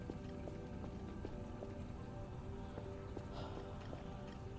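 Steady rain falls in the video game Voices of the Void, a constant hiss with scattered drop patter and faint tones running underneath, with no talking over it.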